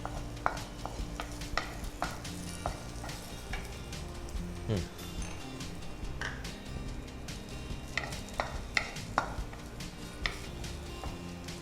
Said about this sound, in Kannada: ಈಗ ನಮ್ಮ ಬಾದಾಮ್ ಫ್ರೈ ಮಾಡ್ತಾ ಇದ್ದೇನೆ.